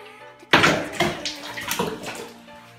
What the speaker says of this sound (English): this is the cold water that I have to get into